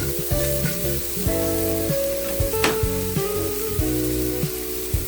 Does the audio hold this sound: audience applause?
no